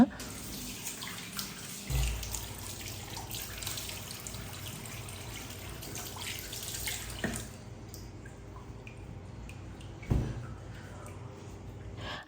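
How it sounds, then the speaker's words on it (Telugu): Tap water runs steadily during face washing with a face wash, with brief splashes and a drop in flow near the end as the stream tails off. "so I wash my face with the మమ్మ అర్త్ ఫేస్ వాష్ అనమాట"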